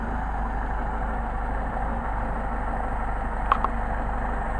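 A Solex-carbureted engine idles steadily throughout, a continuous low rumble with no talk, broken only by a brief light clink near the end.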